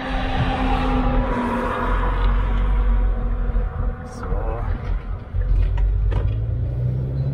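Vehicle towing a loaded hay tedder on the road, a continuous engine rumble and rolling road noise from inside the cab, briefly easing then resuming, with people talking throughout.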